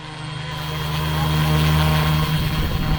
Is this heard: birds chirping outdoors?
no